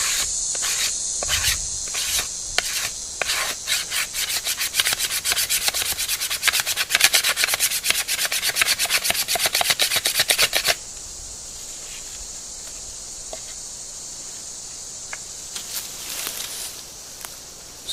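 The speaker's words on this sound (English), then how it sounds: "you're going to take your knife, sharp end down, okay, and you're going to scrape like this." A knife blade scraping along bamboo to shave tinder, a fast run of rough, rhythmic rasping strokes that stops partway, followed by quieter background with a few faint scrapes near the end.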